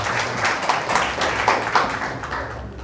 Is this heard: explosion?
no